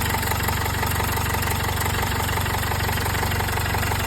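A Jaguar XF 2-litre turbo diesel engine idles steadily up close, with a constant low rumble and rhythmic knocking throughout.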